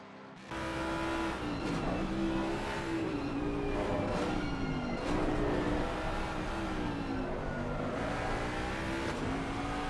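Racing cars in Assetto Corsa Competizione climb around the quarry corner toward Frog Hollow at Bathurst, with engines droning and rising and falling in pitch as gears shift, loud and sustained throughout.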